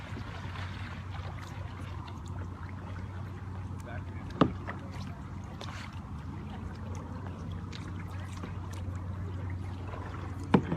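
Kayak paddling on the LA River, a steady low water and hull wash with a couple of sharp paddle knocks, heard alongside voices talking.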